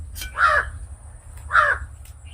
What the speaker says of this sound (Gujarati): કાગડો બોલે કાગડો બોલે